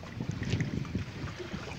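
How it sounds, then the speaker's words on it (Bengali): A boat travelling a long way across water at night toward a village, a continuous low rumbling drone with wind buffeting the microphone, close and steady throughout with no speech. "নৌকার মাধ্যমে অনেক দূর যাচ্ছি।"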